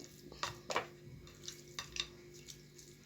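Chicken pieces in a pan are stirred, giving soft, close scrapes and clinks of utensil against metal in irregular strokes over a faint sizzle, with no talking.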